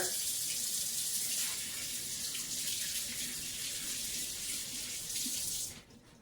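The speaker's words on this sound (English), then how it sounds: "rinse my hand off here" Tap water runs into a kitchen sink to rinse a buttery hand, a steady close splashing hiss that cuts off near the end, with a voice speaking briefly.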